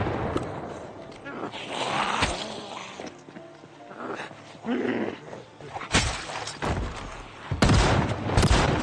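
Shotgun blasts in the Project Zomboid video game: several sharp, loud bursts ring out against a noisy backdrop of game sound, with the heaviest reports clustered near the end of the stretch.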